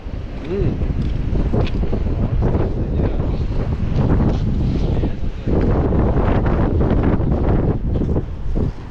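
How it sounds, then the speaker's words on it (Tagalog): Heavy wind buffets the microphone in loud, continuous gusts while fishing, rumbling low and drowning out everything else. "Lakas kasi ang hangin."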